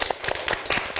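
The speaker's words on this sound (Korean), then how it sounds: "네, 박수." A brief snatch of audience clapping at a Buddhist temple gathering in Boryeong, with several distinct claps in quick, uneven succession at moderate, nearby loudness.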